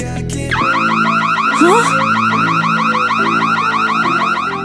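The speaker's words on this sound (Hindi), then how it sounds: "ये अलार्म क्यों बज रहा है?" A loud electronic alarm wails in a rapid repeating warble, steady and continuous after a brief bump at the start, with no voices.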